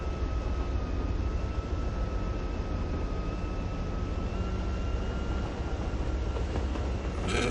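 Express tram passing close by on a city line, a steady loud rumble of wheels on rails with a thin tonal whine, continuous for several seconds, no voices heard.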